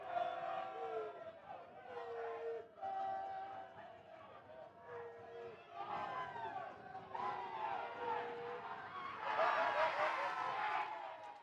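Rugby crowd at an Eagles versus Rams rivalry-round match jeering a young kicker, a sustained roar of voices that swells louder near the end, with commentary talk over it.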